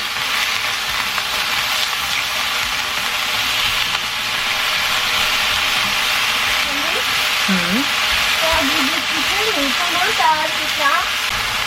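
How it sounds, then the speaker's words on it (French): Flipped chicken pieces fry in a pan for a creamy Boursin chicken dish, giving a steady, close broadband sizzle throughout, with brief squeaky scraping sounds in the middle and later part. "je vais laisser griller de l'autre côté"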